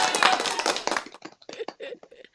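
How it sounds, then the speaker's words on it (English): A short burst of lively clapping from a few people sounds for about a second at close range, then dies away into scattered lighter claps and taps with bits of talking mixed in. "Oh wait, we'll do more applause."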